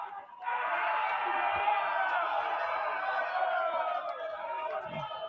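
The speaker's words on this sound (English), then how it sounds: "Crowd making some noise." A baseball crowd of about ten people right beside the field making noise, a sustained chorus of whoops and shouting voices that swells after a short quiet start and holds steady, fairly close.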